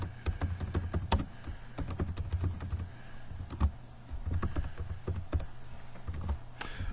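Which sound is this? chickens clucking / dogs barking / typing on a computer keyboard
typing on a computer keyboard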